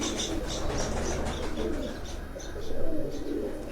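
Pigeons coo in a loft, soft repeated throaty coos mixed with light chirps and rustling, close and continuous without speech.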